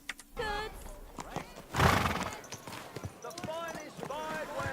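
A horse whinnies loudly in the video game Kingdom Come: Deliverance, with shorter neighs before and after and faint hoof clops, while people talk over it.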